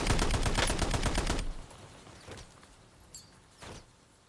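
Sniper rifle gunfire from a rooftop in a video game: a rapid string of loud shots fills the first second and a half, then a few isolated sharper cracks and impacts follow more faintly, with no one talking.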